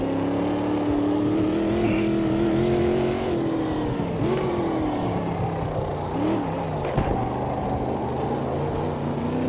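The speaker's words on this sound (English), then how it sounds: "LMDH coming by." LMDH prototype race car in a sim racing game, a loud steady engine drone with shifting pitch as it runs close by, continuous throughout.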